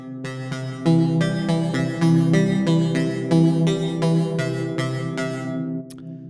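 A Sunvox strings synth patch named Das Purty Stringy plays a sequence of sustained, bright string-like notes with a steady rhythm, heard alone before it stops abruptly near the end.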